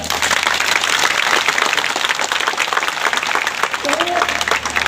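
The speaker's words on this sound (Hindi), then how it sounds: "आज टीचर्स डे पे एक जोरदार तालियां हो जाए।" Students at a higher secondary school in Ramkot give a loud, sustained round of applause for Teachers' Day, dense clapping from a large crowd filling the whole stretch without a break.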